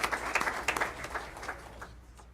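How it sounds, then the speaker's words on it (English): Applause from an audience at a school board meeting, a short burst of scattered clapping that tapers off within a couple of seconds. "if we could please give them a round of applause as well"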